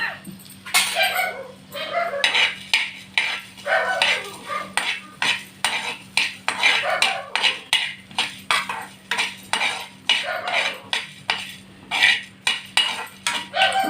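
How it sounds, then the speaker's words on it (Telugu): Coriander seeds dry roasting in a pan, stirred with a utensil in a steady rhythm of scraping and rattling strokes, moderately close, with a constant low hum underneath. "ధనియాలు వేగుతూ ఉంటాయండి"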